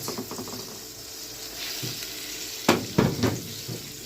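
Butter and oil sizzle in a pan with peas, a steady frying hiss joined by a few louder clatters of a utensil stirring against the pan.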